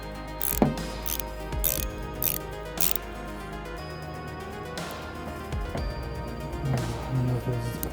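A ratchet tightening the nut on a remote battery disconnect switch, sounding as repeated close clicking bursts of the pawl separated by short pauses, with faint handling noises between strokes.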